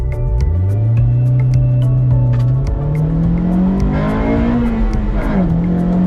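A Honda Civic EK9 revs hard while racing a Honda City RS. The engine gives a loud, close, continuous drone that holds steady and then climbs in pitch, with no talking.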